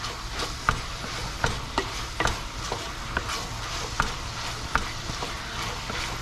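Minced mutton sizzles steadily in a pan while a utensil scrapes and stirs it, leaving sharp clicks and knocks every second or so.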